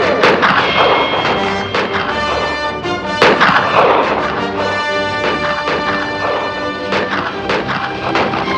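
Gunfire in a battle scene from the 1958 western The Big Country, with dense, overlapping shots cracking out continuously over a loud, busy soundtrack for the whole stretch.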